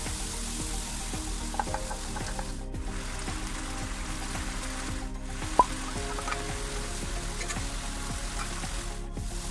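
Leftover canned tuna oil hits a hot pan of tuna sisig, setting off a steady, close sizzle and crackle with occasional stirring scrapes, no talking.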